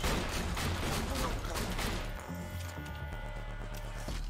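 Rapid gunfire from the video game Borderlands 2, with dense, loud shooting filling the opening seconds before easing into quieter combat noise and sustained tones.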